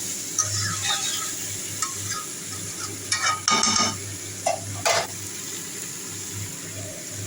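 Food being sautéed in a pan after a little water is added, with steady sizzling, bursts of stirring and scraping, and brief splashy clatter partway through, all under a constant low hum.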